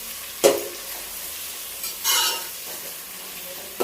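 Tomatoes cook with fried onions in a pot for chicken biryani: a soft, steady sizzle up close, broken by a few sharp stirring scrapes and clinks against the vessel, with no talking.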